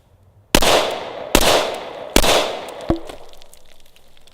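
Three sharp, loud shots from a Glock 21 Gen 4 pistol fired in steady succession about 0.8 seconds apart, each with a ringing decay, followed by a fainter metallic clack.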